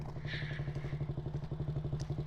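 Motorcycle engine idling while still cold, a steady, close, fairly loud rhythmic chugging with regular low pulses and no voices.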